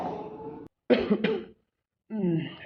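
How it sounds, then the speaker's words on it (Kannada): A person with a cold coughs in rough, congested bursts separated by brief silences, close and fairly loud, with some throaty sounds between the coughs. "ಇದ್ಯಾಕಪ್ಪ ತುಂಬಿಟ್ಟೈತಿ ಕೆಮ್ಮು"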